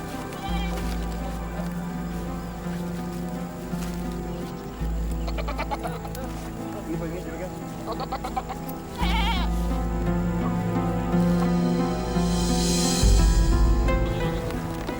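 Goats bleating close by in a herd, a series of loud wavering bleats repeating every few seconds over a layer of music, with shorter cries scattered in between.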